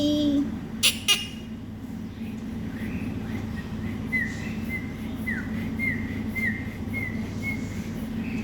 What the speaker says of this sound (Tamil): இப்படி விசில் அடித்து காட்டினோம்னா